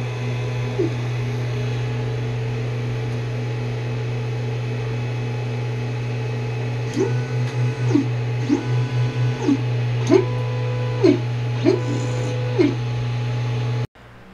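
Steady motor whine of a running Creality CR-10 3D printer, with rhythmic stepper-motor tones rising and falling in repeated movements, close and continuous.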